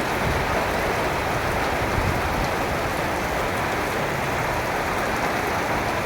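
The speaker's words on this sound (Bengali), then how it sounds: "এই দেখুন স্বস্তির বৃষ্টি।" Steady, dense rain pours down, a constant close wash of patter on surfaces with no pauses and no voices.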